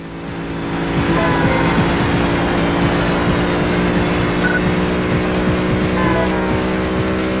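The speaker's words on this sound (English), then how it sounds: "Kind of drift here." A car drifts through a turn in the GameCube racing game Burnout 2: Point of Impact, with a loud, steady engine drone and tire squeal running continuously throughout.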